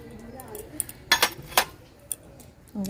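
A metal spoon scrapes and clinks against a pan while stirring a sugar, cardamom and coconut mixture for puli pitha, a few sharp taps standing out between softer scraping, close and fairly loud.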